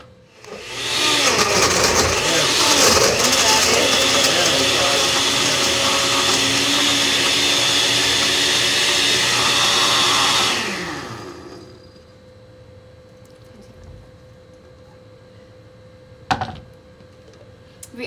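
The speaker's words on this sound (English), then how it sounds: "Our last step is to add one cup of ice to the blender." A countertop blender crushes ice for a pineapple drink, roaring loudly and steadily for about ten seconds before spinning down, followed by faint clinks and a short knock.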